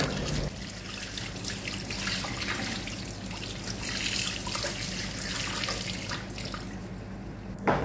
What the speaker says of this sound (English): you need to make sure you wash it very well